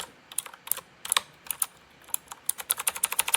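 Fingers type on a MageGee 75% mechanical gaming keyboard with red switches, giving a quick, irregular run of close, crisp key clicks that speeds into a steady patter near the end, with no talking.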